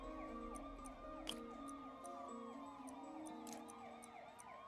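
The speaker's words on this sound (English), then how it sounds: "I hate that I can still hear the sirens." Wailing sirens in a video game rise and fall continuously at a distance, several overlapping, with faint clicks and no speech.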